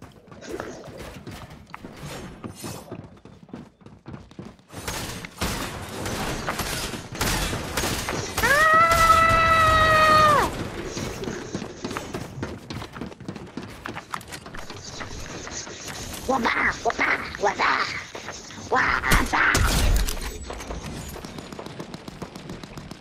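Rifle and sniper gunfire in Fortnite crackles in rapid bursts of sharp shots, broken by a rising tonal whine midway and more loud volleys near the end, with faint game noise underneath.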